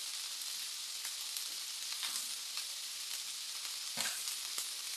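Steady sizzling of chicken in tomato and pepper sauce frying in a pan, a dense crackling hiss with occasional louder pops, continuous throughout.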